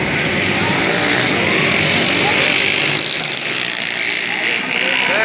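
Motorcycle engines rev hard and continuously at a motorcycle and wheelie meet in Milagres, Bahia, a loud dense roar with shouting voices over it.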